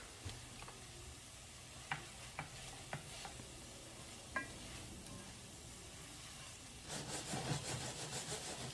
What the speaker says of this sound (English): I'm still just waiting for my vegetables to saute more